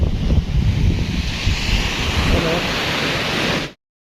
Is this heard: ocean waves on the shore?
yes